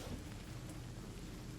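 Rain falls in the Divinity Original Sin video game as a steady, dense, low hiss of droplets, continuous and fairly faint, with no voices over it.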